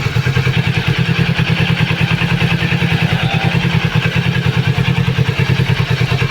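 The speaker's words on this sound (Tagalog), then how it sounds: "Ito po ang tunog ng stock pipe natin." A Kawasaki Z650 motorcycle with its stock exhaust pipe runs nearby, a loud, steady, throbbing rumble with an even pulsing beat and no pauses.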